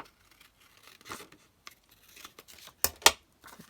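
Scissors snip through material in short, close cuts, scattered quietly at first and then two crisp, louder snips near the end, with brief rustling in between and no talking.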